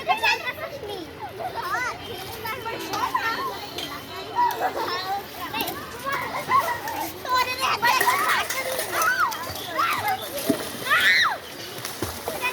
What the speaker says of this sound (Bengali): ওই দূরে সাঁতার কাটতে চলে গেল